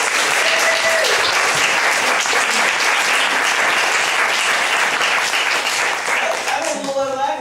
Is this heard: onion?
no